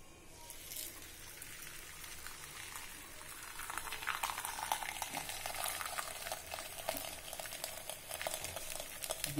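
A rolled paratha for chicken rolls fries in hot oil in a pan, giving a steady close sizzle that swells and grows busier after a few seconds, with soft crackling throughout and no talk.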